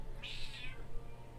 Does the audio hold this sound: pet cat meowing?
yes